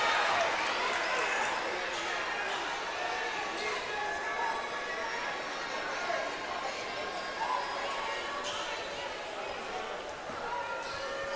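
A large crowd at a 6A high school basketball tournament nightcap fills a gym with steady, distant cheering and murmur, squeaks and bounces scattered through it, while a commentator talks over the din.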